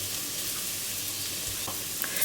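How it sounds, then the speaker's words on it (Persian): Fava beans sautéing in a pan for a northern Iranian baghali ghatogh, a steady close sizzle and frying hiss with a few soft stirring scrapes, no talk. "الان تقریبا 5 دقیقه هستش که من دارم این باقالیا رو تفت میدم"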